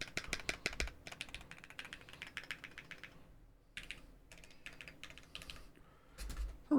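Typing on a Pwnage ZenBlade 65 v2 mechanical keyboard with a back plate: close, crisp key clacks come in quick bursts, with short pauses between runs and a heavier thump near the end.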